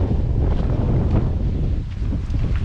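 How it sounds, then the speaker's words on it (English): Strong wind buffets the microphone with a continuous low rumbling roar, gusting slightly throughout, outside a general store in the Australian outback. "it's a bit windy"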